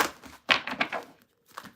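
Quick hand shuffle of a tarot deck, with a few close papery riffles and taps in a short burst, a brief pause, then one more soft flick. No voices.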